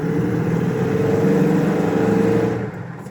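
A first-generation Ford Bronco's engine pulls hard while driving, a loud, steady drone with a rising rumble before easing off near the end.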